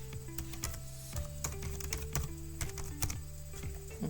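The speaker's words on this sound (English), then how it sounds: "and then I'm going to type" Quick, light keystrokes tap out on a computer keyboard at close range in an irregular rhythm over a faint background hum.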